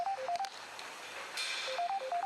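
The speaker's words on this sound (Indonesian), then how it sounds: "dari arah bench, ponselnya berdering keras" A mobile phone rings loudly from a bench beside a sports court, giving short repeating electronic beeps in two quick bursts with a brief lull between them.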